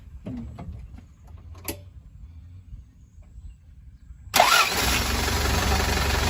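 An Isuzu NPR115 six-wheel truck's diesel engine cranks and starts after a few quiet clicks and knocks, then settles into a steady, loud, close idle.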